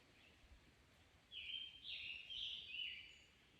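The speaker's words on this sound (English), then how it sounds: "I don't know if this is the same bird, but super loud. It's way far away." A single bird gives a drawn-out, wavering call from far away. It is faint and thin above quiet outdoor background noise and lasts about two seconds.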